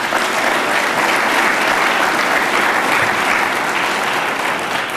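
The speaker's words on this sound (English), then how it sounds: "So a big hand also to all of our volunteers." A large political party convention audience gives sustained, loud applause for the volunteers, a dense wall of clapping that stays even throughout with no speech over it.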